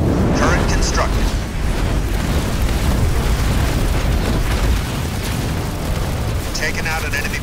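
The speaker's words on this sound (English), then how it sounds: "Taken out an enemy building" A building blown up in the real-time strategy game Halo Wars 2, a loud sustained rumbling explosion filling the whole stretch, with game voice lines and chatter over the roar.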